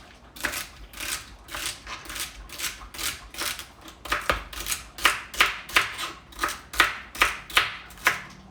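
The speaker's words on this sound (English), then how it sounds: "Cucumber, carrots, celery chopped up and ready to go there" Knife chopping cucumber, carrots and celery on a cutting board, a steady series of sharp close-up chops, about a dozen evenly spaced, growing firmer toward the end.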